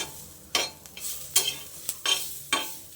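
Garlic and coriander roasting in a pan, with a spoon scraping and stirring in several sharp, bright strokes about half a second apart over a faint steady sizzle.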